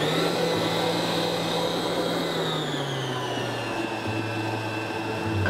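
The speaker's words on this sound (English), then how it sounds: "Our syrup is ready, so we are going to turn it off and we are going to add it in the mixer." Stand mixer fitted with a paddle attachment beating hot syrup into honey nougat with almonds and cranberries, a steady, loud motor whine and hum whose pitch slowly drops and then settles.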